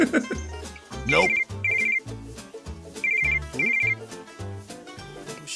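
A phone ringtone rings out in repeated short electronic trills over a thumping music beat, several bursts in a row.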